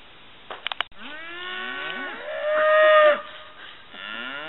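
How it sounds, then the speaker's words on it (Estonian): Cows in a pasture near Cusco moo in long, drawn-out bellows close by, several calls overlapping and rising and falling in pitch, with a few short knocks before the first call. "Meie vaatevälja sattus 4 lehma ja 1 eesel. Nad kõik vaatavad meid ja räägivad meiega."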